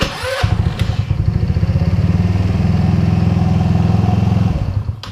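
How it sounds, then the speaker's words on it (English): A small 150cc go-kart engine catches after a brief pull, then runs with a rapid, steady putter up close for several seconds before cutting off. "I'll start the engine."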